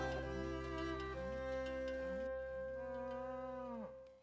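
Limousin suckler beef cows on a farm give several long, loud, drawn-out moos one after another, close and clear with steady low background hum and no talking.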